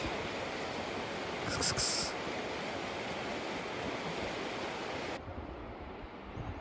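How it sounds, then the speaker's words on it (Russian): A river flowing below a mountainside in the Northern Urals, a steady broadband rush of water, continuous and fairly loud, with no talking. "Вот река внизу течет."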